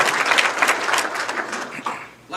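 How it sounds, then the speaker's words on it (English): Warm applause at a football touchdown club banquet and hall of fame induction, a crowd clapping briskly and fairly loudly before tapering off near the end. "let's give them a nice big round of applause"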